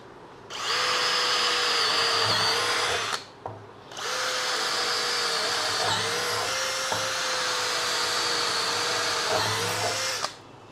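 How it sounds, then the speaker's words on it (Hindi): Cordless brushless drill (Ballorex KS-21VD) with an HSS bit boring into an aluminium strip: two sustained, loud whining runs of about three and six seconds, separated by a brief pause, with a steady motor pitch and no talk. "मैंने इसके अंदर एच एस एस वाला बिट बांध लिया तो मैं आपको अलमूनियम की पट्टी में भी होल करके दिखा देता हूँ"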